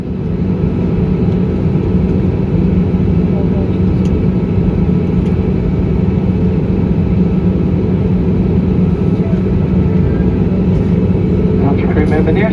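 Jetstar airliner taking off from Hobart, heard from inside the cabin as a loud, steady, low engine roar that holds unbroken throughout, with faint higher whines coming and going above it.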